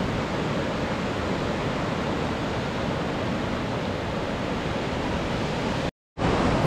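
Ocean surf at Dikwella beach in Sri Lanka roars as a steady, dense wash of breaking waves close by, with a brief cut to silence near the end and no voices.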